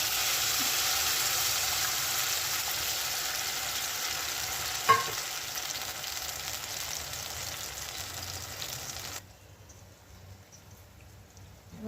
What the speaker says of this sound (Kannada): ಕಿವುಚಿಟ್ಕೊಂಡಿರೋ ಹುಣಸೆ ಹಣ್ಣನ್ನು ರಸನ ಹಾಕ್ತಾ ಇದ್ದೀನಿ